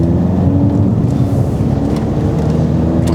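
A used imported car under 10 million won, driving on the road and accelerating, with a steady low engine and road rumble close up throughout and wind noise on top, no rattles standing out.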